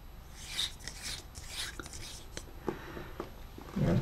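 A failed LED bulb that had been lighting dimly is unscrewed from its socket, giving soft, gritty rubbing and scraping in short bursts, faint and close, with a thump near the end.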